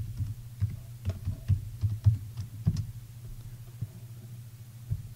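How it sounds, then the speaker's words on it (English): Quick clattering keystrokes on a computer keyboard in bursts of taps, close and moderately quiet over a low steady hum, slowing to a few isolated clicks toward the end. "I'm going to type in"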